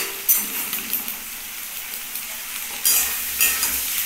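A spatula stirs papaya and potato curry with egg and lentils in a pan, a soft steady sizzle broken by a few sharp scraping strokes close by.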